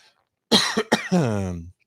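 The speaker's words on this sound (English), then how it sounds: "Oh my gosh, I'm coughing." A few harsh coughs in quick succession, close up, ending in a drawn-out throaty rasp as the person clears their throat.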